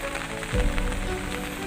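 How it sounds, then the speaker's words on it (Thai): Heavy rain pours steadily while fish are being caught, a dense continuous hiss close by and alone, with a brief low thump partway through. "นะครับฝนตก หนัก นะครับ"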